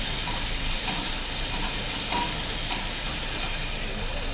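Chopped onions frying with cumin in a pan for potoler dolma, a steady close sizzle with a few soft stirring clicks, no voices.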